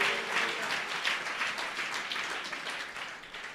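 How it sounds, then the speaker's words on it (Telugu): A church congregation claps for the Lord, producing a fairly faint, rapid patter of many hands slapping together in a steady rhythm that fades slightly toward the end. "కొట్టో కొట్టో గట్టికి చప్పట్ల ప్రభువుకు"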